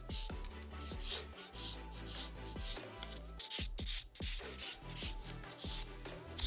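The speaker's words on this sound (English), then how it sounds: "Now I'm going to buff the nail with my clean finish buffer." A buffer is worked over an acrylic nail in long smoothing strokes, giving soft, repeated scratchy rubbing sounds close up, with small knocks between passes and no speech.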